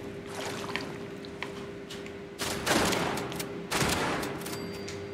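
Gunfire bursts in the video game Fallout 76, with a couple of loud shotgun-like blasts and rapid shots rising over a quiet, faint background with a steady hum.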